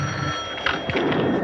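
An old-style telephone bell rings close by in short, bright metallic bursts that repeat with brief gaps and stand alone with no talk.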